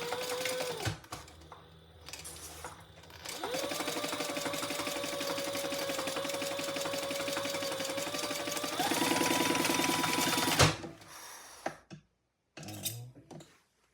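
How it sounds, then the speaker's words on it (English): A domestic sewing machine stitches the seams of a shoulder bag in one long steady whirring run with a rapid needle rhythm, pausing briefly, then speeding up before stopping, with a few faint clicks after. "let's sew these seams together"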